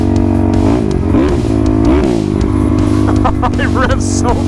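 A dirt motorcycle engine revs hard in quick rising and falling sweeps, loud and close, with clattering and a voice breaking in toward the end.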